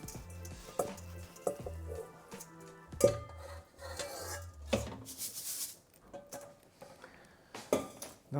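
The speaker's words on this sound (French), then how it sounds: "Donc, je mets mon riz." Dry rice poured into an oversized saucepan while making a halloumi curry, heard as a close, uneven rattle amid scattered clinks and knocks of kitchenware, with no voices.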